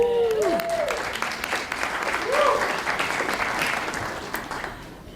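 A charity fundraiser crowd applauds a donation with steady, full clapping, while brief tonal sweeps, likely whistles or cheers, rise above it near the start and middle.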